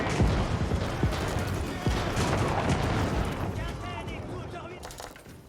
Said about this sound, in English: Sniped by the cannons.